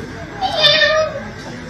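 A person imitates a cat's meow in a drawn-out, wavering voice on a drama set, a single mid-length call heard fairly close and loud over light background noise.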